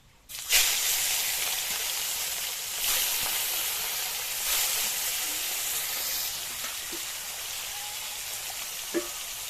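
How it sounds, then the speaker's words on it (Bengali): Pieces of katla fish slide into hot white oil in a kadai, starting a sudden loud sizzle that holds as a steady, dense frying hiss with occasional small pops, close and without talk. "তেল গরম হয়ে গিয়েছে, এবার মাছগুলো ভেজে নেব।"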